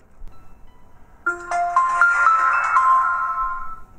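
Boot chime of a fake Samsung Galaxy A5 clone phone, a short melodic ringtone-like jingle that starts suddenly after near silence and plays on for a few seconds, close and clear.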